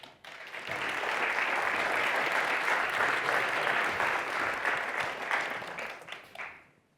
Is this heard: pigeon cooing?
no